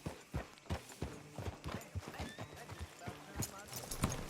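Horse in the Red Dead Redemption 2 video game, hooves clip-clopping in a steady rhythm close by, with a snort, under ongoing talk from game characters.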